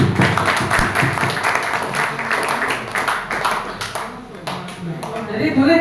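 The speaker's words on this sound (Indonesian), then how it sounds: "Terima kasih untuk kita tepuk tangan." An audience applauds at a school review meeting at SMP N 2 Mayong, a burst of scattered clapping close by that fades within a few seconds while a voice speaks over it.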